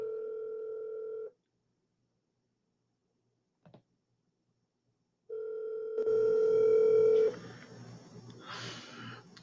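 A telephone call rings out with two long, loud ringback tones separated by silence, followed by a short click and a burst of busy line noise.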